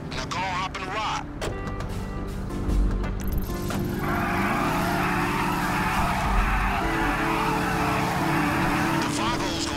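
Car engine revving and tires squealing as a lowrider is driven in GTA 5 Online, steady and loud throughout, with a voice talking over it and a broadband skid-like hiss rising midway.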